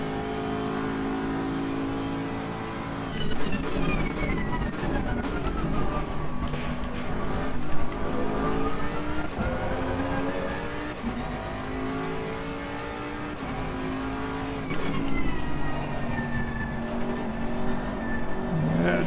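A race car in Assetto Corsa Competizione slows under braking, its engine revving and dropping through downshifts with a loud, continuous whine that falls and rises again, close and without talk.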